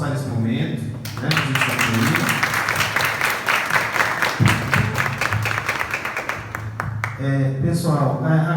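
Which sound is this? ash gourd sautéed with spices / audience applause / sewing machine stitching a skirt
audience applause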